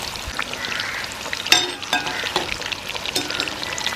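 Chicken pieces sizzle steadily as they fry in hot oil in a small pan, a continuous crackling hiss broken by a few sharper pops and spatters, close and fairly loud with no one talking.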